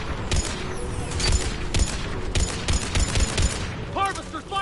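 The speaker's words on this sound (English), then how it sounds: "Harvesters firing on the Turians!" A Harvester fires on Turians in the video game Mass Effect 3, heard as rapid bursts of heavy gunfire and booms that repeat across the battle. Brief shouted voices come in near the end.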